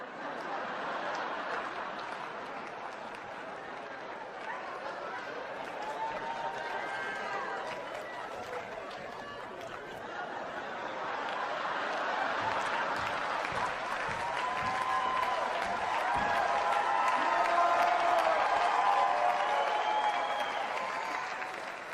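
Audience applause at a Carlos Mencia stand-up comedy show in 2006 rolls on for about twenty seconds, dense clapping that swells louder midway, with a few whoops and shouts among the crowd.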